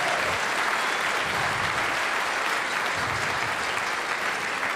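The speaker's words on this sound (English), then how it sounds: "Please give him a round of applause for all the help." Event staff at a band gathering receive applause: a dense, loud, steady roar of clapping from a large crowd, continuous throughout.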